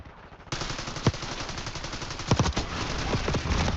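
SMG gunfire in Call of Duty Black Ops 6 multiplayer, rapid bursts of shots over a constant game background, with a few sharper louder volleys and no talk.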